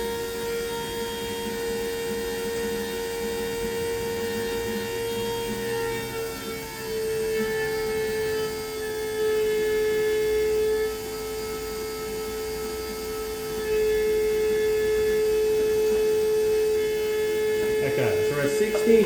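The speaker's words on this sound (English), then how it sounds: "fuel pump's running, fuel pressure is 49" The electric fuel pump of a Ford XG ute runs with a steady, constant whine and hum while the fuel system is being pressure tested, with some shifts in level partway through.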